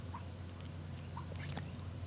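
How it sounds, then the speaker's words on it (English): Faint crickets chirp steadily at night near the sea, a thin high-pitched trill over a quiet low hum with a couple of soft distant sounds, no voices. "You hear the crickets."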